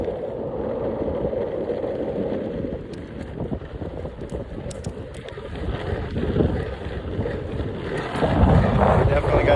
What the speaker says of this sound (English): Definitely got a headwind again